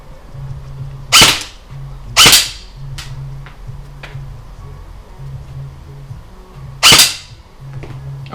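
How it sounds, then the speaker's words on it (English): A G&G CM16 Raider 2.0 airsoft rifle fires three sharp, loud cracks at a home firing range, spaced irregularly over several seconds, with softer clicks and a faint low hum between the shots. "I think we're on like 12 shots now."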